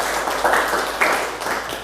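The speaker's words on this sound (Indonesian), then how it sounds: "Aplaus untuk Fahri ya" Brief applause from students in a classroom for a classmate named Fahri, a short burst of clapping that rises twice over a steady murmur of room noise.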